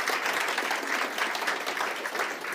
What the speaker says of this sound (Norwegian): men en applaus til deg